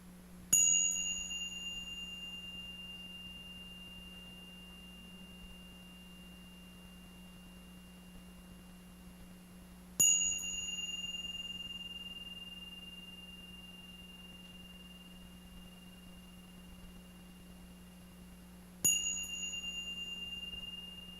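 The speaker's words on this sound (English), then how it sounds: "I'd like to call the bell 3 times as we formally begin" A meditation bell struck three times at a sound bath service, each clear ringing tone sounding alone and decaying slowly over several seconds before the next strike.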